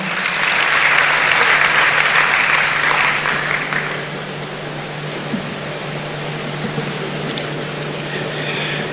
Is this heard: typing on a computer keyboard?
no